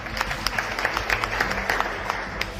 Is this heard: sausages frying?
no